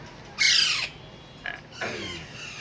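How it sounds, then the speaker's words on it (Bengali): Alexandrine parakeets, a male and a female, give harsh, loud squawking calls: one long rasping call, a short squawk, then another drawn-out call, close by. "এখানে রয়েছে মেল ও ফিমেল পাখি"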